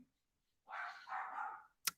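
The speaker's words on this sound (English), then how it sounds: "Dog's barking." A dog gives one drawn-out, muffled bark-like call, quiet and a little distant, followed by a sharp click.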